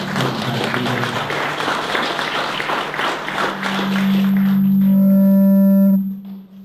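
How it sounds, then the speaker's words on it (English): Audience applause for a presenter named Jeff at the close of a health care marketing talk, a dense wash of clapping filling most of the stretch before a steady tone and feedback hum take over near the end. "Can we give Jeff a round of applause"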